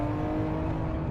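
A high-revving car engine under half throttle climbs toward 7,500 RPM, a steady, close, loud mechanical whir with no talking.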